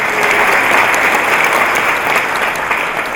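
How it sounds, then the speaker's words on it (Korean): Warm, sustained applause from a church congregation at a Sunday worship service, a dense steady wash of many hands clapping together for the full stretch without a break. "따뜻한 박수를 올리겠습니다"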